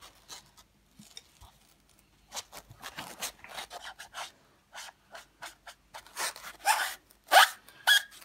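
Abrasive rubbing on the painted frame of a Babyzen Yoyo stroller to lift scuff marks, heard as soft, close scratchy strokes in short bursts that grow denser and louder toward the end.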